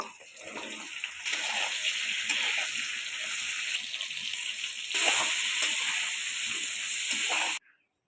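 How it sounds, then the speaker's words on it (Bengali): Ridge gourd pieces frying in hot oil in a pan for a Bengali mixed-vegetable dish, a steady loud hissing sizzle that swells midway and cuts off abruptly near the end, with no talking. "সব শেষে ঝিঙেগুলো দিয়ে দিলাম একইভাবে এগুলো ভেজে নেব"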